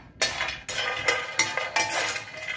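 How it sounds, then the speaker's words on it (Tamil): Whole almonds being roasted on low flame in a pan, with a steady rattling and scraping as they are stirred, in repeated bursts of clinking against the metal, close and fairly loud with no talking. "ஒரு கப்பு பாதாம் லோ ஃப்ளேமில் ஒரு 4 நிமிஷம் நல்லா வறுத்துக்கோங்க."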